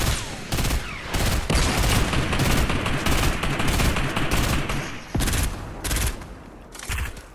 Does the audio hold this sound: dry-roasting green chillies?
no